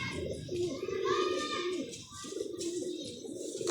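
Domestic pigeons coo in a close, rhythmic series of soft, low throaty calls that run through the whole stretch, with no talking over them.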